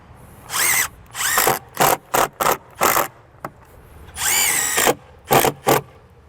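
A power drill drives screws into the mount of a Solera slide-out awning on a 2022 East to West Alta travel trailer, heard as a string of short, loud whirring bursts of varying length with quiet gaps between them.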